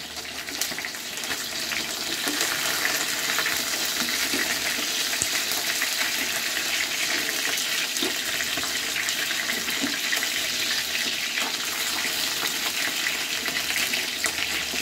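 Pork tenderloin in a crispy coating browning in a pan over medium heat, a steady broadband sizzle that holds fairly loud and unbroken throughout.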